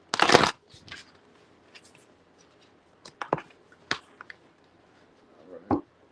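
Quick bursts of cards being shuffled and riffled, a loud flurry at the start followed by scattered softer snaps and one more burst at the end.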